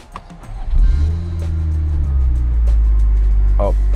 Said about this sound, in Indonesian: Kita coba nyalain mesin.